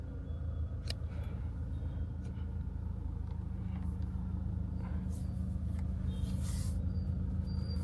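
An automatic car runs with a steady low engine rumble and road noise, heard from inside the car, with faint clicks and brief higher sounds over it and no talk.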